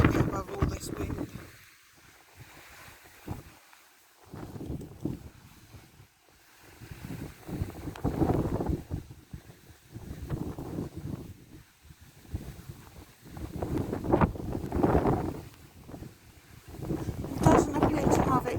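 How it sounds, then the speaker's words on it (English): Strong wind buffeting an outdoor microphone in gusty surges throughout, with a person talking over the rumbling roar. "I don't even know if you can hear me above all this wind."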